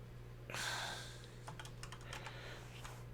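Keys on a computer keyboard tap quietly in a quick, uneven burst of clicks close to the microphone, after a brief rustle, with no talking.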